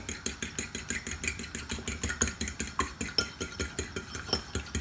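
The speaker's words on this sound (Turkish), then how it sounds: "Şimdi iyice çırpalım." Eggs and salt being whisked in a bowl, a steady rapid rhythm of metallic clinks against the bowl's sides, evenly repeating strokes, close and moderately quiet, with no talking.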